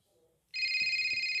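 Phone ringing in a video game: a loud electronic ring tone starts abruptly after a short near-silent gap and holds steady, with soft low sounds beneath it.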